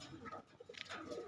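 Pigeons of various colours sit out in strong, hot sunshine, giving soft, faint cooing calls in short, low bursts with a few higher chirpy notes mixed in.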